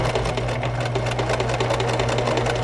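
Overlock sewing machine stitching along the edge of a tufted cushion, a steady close, loud mechanical whirr with rapid even needle rhythm throughout, no voices.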